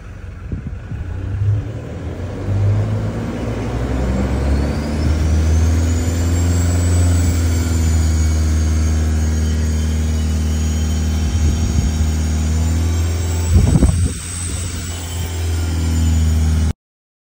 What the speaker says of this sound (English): the engine's got to be running for this one